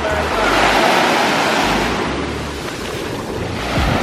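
Surf washes onto a Mexican resort beach in a steady, broad roar, with gusts of wind buffeting the microphone throughout and a brief low thump near the end.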